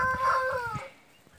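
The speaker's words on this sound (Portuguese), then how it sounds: "Só tem esse galo aqui que tá com todas essas galinhas" A rooster kept with a flock of hens gives a short, loud, tonal call close by, which breaks off after under a second and leaves near silence with faint scuffling.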